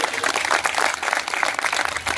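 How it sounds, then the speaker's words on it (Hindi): Audience at a community political gathering applauds to welcome a visiting party official, a dense, steady wash of many hands clapping throughout at fairly loud level. "जोरदार ताली बजा के स्वागत करिए"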